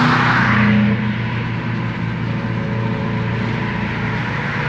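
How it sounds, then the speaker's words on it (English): Subaru with a muffler-free exhaust gives off a loud, steady, throaty rumble, slightly louder at first before settling into a constant drone. "hands down, the best sounding exhaust on the market"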